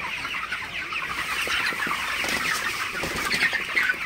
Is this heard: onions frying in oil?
no